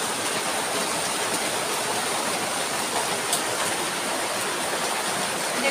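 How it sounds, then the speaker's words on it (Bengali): Heavy rain pours down in a steady, dense hiss that stays constant throughout, loud and unbroken, with no voices. "দেখতে পাচ্ছ প্রচুরভাবে বৃষ্টি হচ্ছে"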